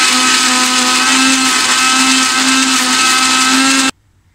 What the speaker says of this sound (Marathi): आता हे मी मिक्सरला वाटून घेते.